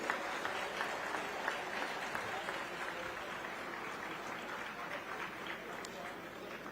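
An audience applauds at the inauguration ceremony of the Chhattisgarh tribal museum in Raipur, producing a continuous, somewhat distant roar of clapping hands that holds steady for several seconds.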